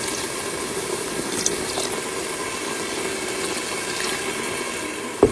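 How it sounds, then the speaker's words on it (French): Hot water is poured from a glass into a Cookeo electric pressure cooker where a tagine of kefta, potatoes and peas is simmering, a steady close wash of liquid that ends in a brief clack. "on rajoute un verre d'eau chaude"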